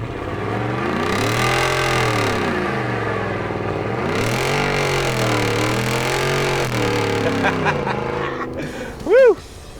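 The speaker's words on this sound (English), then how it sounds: "Who doesn't love a good burnout, even in a big ass truck like this?" A 2012 Ford F-150 Raptor SVT pickup with a Corsa exhaust and Airaid cold air intake does a burnout, its engine revving loud and close in repeated rising and falling sweeps that then settle to a steady high roar.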